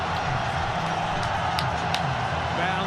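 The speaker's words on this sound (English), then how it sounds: "Listen to the crowd." Steady crowd roar fills a packed cricket stadium during the Pakistan versus New Zealand T20 World Cup 2022 semi-final, continuous and loud, with a voice talking over it.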